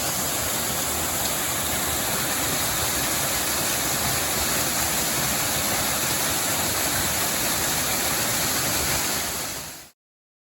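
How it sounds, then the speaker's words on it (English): A mountain waterfall on the Appalachian Trail cascading in a constant, broadband rushing roar, loud and close, steady throughout before cutting out abruptly at the end. "Beautiful falls and cascades go down the mountain there."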